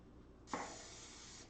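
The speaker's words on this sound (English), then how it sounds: "going to spray the pan." A single short burst of aerosol cooking spray hisses steadily for about a second, close and fairly quiet, then cuts off.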